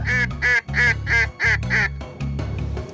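Ducks quack in a rapid, loud run of about six calls close by during a duck hunt, followed by quieter honking and a low rumble.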